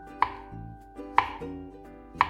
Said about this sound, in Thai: แล้วจะหั่นให้ดูอีกรอบหนึ่งค่ะ